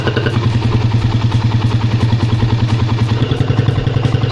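A Raider 150 motorcycle engine fitted with its stock exhaust pipe, idling close and loud with a fast, even thumping pulse and light mechanical clatter throughout.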